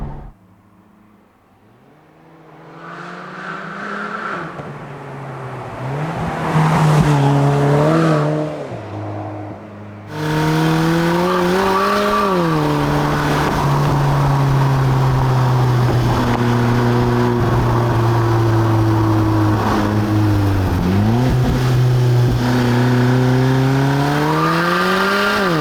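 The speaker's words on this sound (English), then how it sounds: "We're here about how this car now goes down a country road." A modified Alfa Romeo 4C, upgraded by Alfaworks to 340 bhp, driving down a country road: the engine fades up, then holds a loud, steady note that rises and dips with throttle and gear changes, with no talking.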